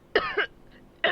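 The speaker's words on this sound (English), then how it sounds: "coughs to clear her throat" A woman coughs and clears her throat in two short, close bursts, a harsh rasp followed by a brief pause and a second rough throat-clearing, with no talk over it.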